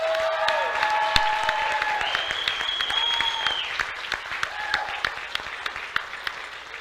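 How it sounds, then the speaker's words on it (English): An audience at a bench press championship applauds steadily, with a dense wash of clapping, whistles and cheers that thins into scattered claps. "Give them a big round of applause."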